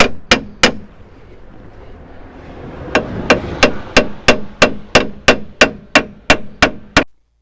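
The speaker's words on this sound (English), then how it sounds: "A hammer." Sharp metallic hammer taps on the front spring of a 2009 Peugeot 207, a quick few at first, then a steady run of about a dozen evenly spaced strikes, close and loud.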